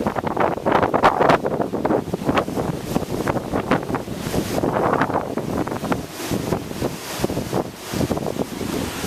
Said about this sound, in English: The wind is just going to increase in speed.